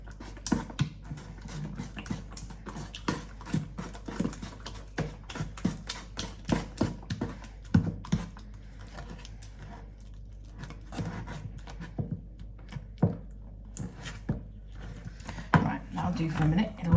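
Cake batter for a cherry and coconut cake being mixed by hand in a bowl, with close, irregular tapping and scraping strokes repeating steadily throughout.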